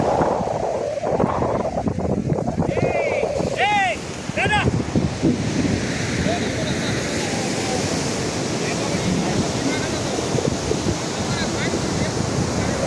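Steady surf and wind roar at Varkala beach in Kerala, a broad continuous wash of breaking waves with gusty microphone buffeting, while voices talk briefly in the foreground early on.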